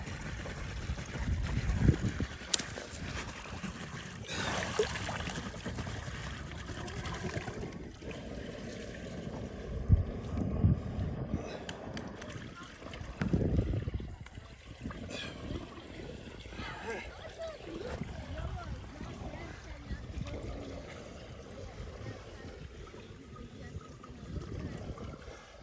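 A six-inch pond drainpipe gurgles and slurps as it sucks in air and water, a steady rushing flow with irregular louder gulps, while someone talks over it at times.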